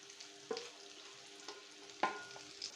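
Stuffed brinjal with masala being stir-fried in oil: a soft, steady sizzle broken by a few spatula scrapes and stirring knocks, close and fairly quiet, with no voices.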